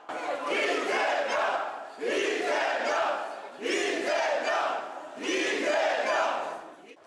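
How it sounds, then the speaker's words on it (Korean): Supporters packed into the Democratic Party's Jeju campaign office, holding balloons, erupt in loud crowd cheering and shouting at exit poll results favoring Lee Jae-myung, rising in four swelling bursts that each briefly dip before surging again. "MBC 등 방송 3사 출구조사에서 이재명 후보가 크게 앞서는 것으로 나오자 환호가 터져나왔습니다"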